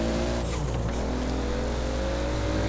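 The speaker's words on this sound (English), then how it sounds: "Just hearing these turbo noises is amazing." Turbocharged Toyota Supra drag car engine in Forza Horizon 4 holds a steady, loud droning hum with a brief rise around a half second in, continuous and close throughout with no talk.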